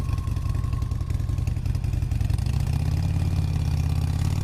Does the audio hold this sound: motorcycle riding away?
yes